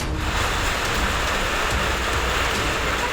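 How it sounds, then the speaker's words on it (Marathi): Sudden unseasonal evening rain in Pune pours down as a dense, steady hiss of drops, loud and unbroken throughout. "पुण्यात अचानकच साडेसहाच्या दरम्यान पावसानं आपली हजेरी लावलेली आहे"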